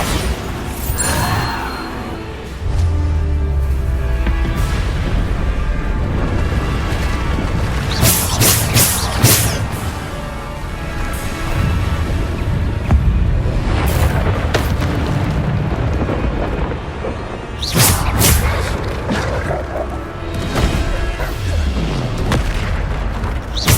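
Spell explosions from Bombarda cast during a dueling trial in Hogwarts Legacy, with repeated loud booms and crashing bursts over steady rumbling battle noise.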